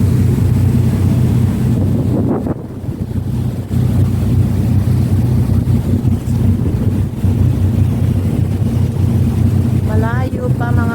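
A ferry heading toward the Batangas pier churns through waves, giving a steady, loud rumble of engine and rushing water with gusts of wind buffeting the microphone; a brief voice rises near the end.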